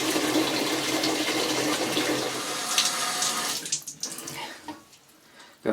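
Tap water pours steadily into a 20 liter heavy-duty water container, a broad continuous rush for about three and a half seconds that then breaks into choppy splashes and gurgles as the flow falters and stops.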